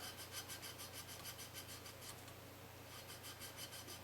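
Rapid back-and-forth rasping of 400-grit sandpaper on a guitar nut on a Chapman ML-3 guitar, close and steady, with evenly repeating strokes throughout.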